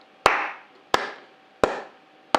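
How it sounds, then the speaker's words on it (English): Four single hand claps, evenly spaced and crisp, each with a short ringing decay in a quiet room, made during a children's music lesson. "we were going to use a clap"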